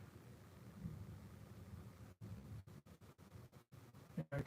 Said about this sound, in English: Yeah, I can hear the thunder coming.